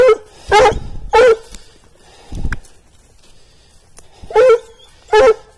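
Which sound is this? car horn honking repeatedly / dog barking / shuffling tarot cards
dog barking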